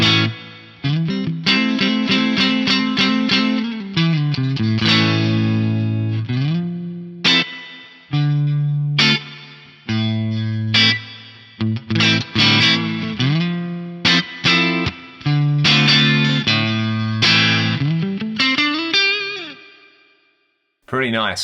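Electric guitar through an Axe-Fx III Fender Twin amp model at stock settings with spring reverb, playing a stretch of clean, chorus-tinged chords and single notes with short pauses, loud and close, no talking.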